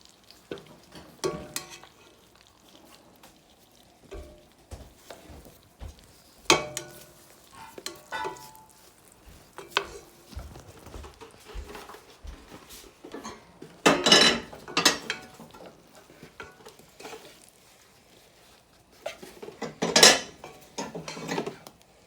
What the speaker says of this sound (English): Stir until those are completely melted.